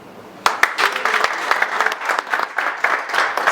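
Applause at a soccer league top-16 draw begins abruptly with a few sharp claps, then continues as a small, uneven group clapping close by.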